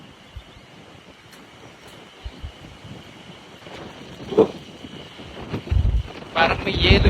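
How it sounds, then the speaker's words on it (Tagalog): Strong, cold gusts of wind buffet an outdoor walkway in Nasushiobara, Japan, roaring across a phone microphone and swelling into loud bursts toward the end, with faint voices underneath. "Lakas ng hangin."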